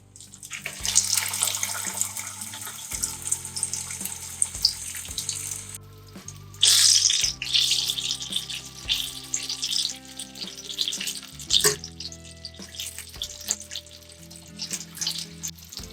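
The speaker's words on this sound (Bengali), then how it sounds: "তেল ভালো মতো গরম হয়ে গেছে, এবার আমি কাটলেটগুলোকে দিয়ে দিচ্ছি।" Egg and vegetable cutlets dropped into hot white oil, giving a steady loud hiss and sizzle with bubbling and a few clinks, close and continuous without speech.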